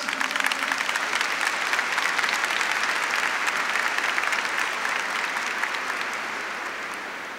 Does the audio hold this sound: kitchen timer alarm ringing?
no